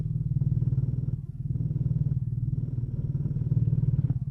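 A BMW R1300 GSA motorcycle engine idles and revs in a low, throbbing pulse, close and steady with a brief dip and a swell in the rhythm.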